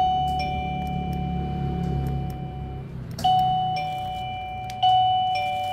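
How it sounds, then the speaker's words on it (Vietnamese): A wireless gate doorbell rings inside a house, its electronic chime sounding two-tone dings that repeat three times, clear and close with no talking. "Cái này gọi là chuông cổng các bác nhá."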